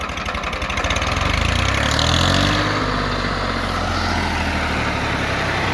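A TAFE Massey 30DI tractor labours hard pulling a rotavator dug into the soil at full lever down, its engine a close, loud, strained chugging drone that holds steady and rises briefly under load.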